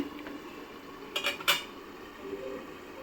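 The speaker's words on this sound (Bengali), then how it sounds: "ঢাকনাটাকে উঠিয়ে একটু দেখে নেব পটলটা সিদ্ধ হয়ে গেছে কিনা" Metal pot lid lifted off a pot of simmering pointed gourd peels, a few quick clanks and scrapes of metal near the mic, alone over a faint background.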